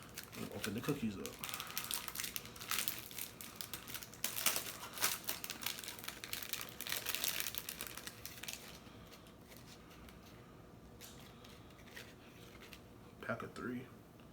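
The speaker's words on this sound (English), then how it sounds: "open the cookies up" Plastic wrapping on a pack of Supreme Oreo cookies crinkles and tears, a crisp, close rustling in several bursts that thins out toward the end, with faint crackles returning briefly.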